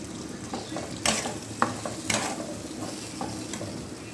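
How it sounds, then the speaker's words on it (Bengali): Green pea kachori filling, a paste in mustard oil, is stir-fried in a pan: a soft sizzle runs under repeated scraping and stirring strokes, with a few sharper spatula scrapes standing out. "দিয়ে পুরটা ভালো করে কষাবো"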